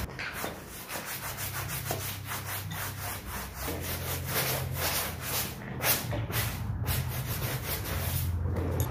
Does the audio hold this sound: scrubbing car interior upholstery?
yes